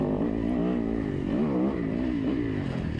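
A Yamaha Tenere motorcycle rides through sand with a steady, close engine drone whose pitch rises and falls slightly as the rider works the throttle.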